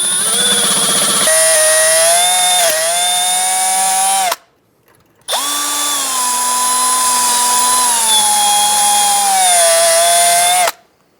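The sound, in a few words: drill bit drilling out a cotter pin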